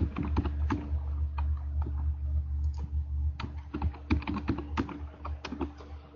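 Fingers type on a computer keyboard, a quiet run of irregular clicks over a low steady hum, close up, with no talk.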